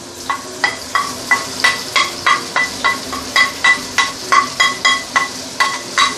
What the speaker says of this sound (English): what we need to do now is to saute all this fresh ingredient